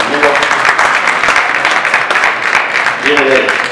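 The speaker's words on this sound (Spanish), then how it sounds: "Un aplauso para el amigo" Applause and clapping from an audience at a talk fill the scene, steady and fairly loud, with voices mixed in underneath.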